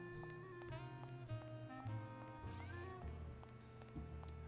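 Cats meowing at the cat races in the video game Grim Fandango Remastered, several tonal cries rising and falling over a steady bed of game music and crowd ambience, moderately loud throughout.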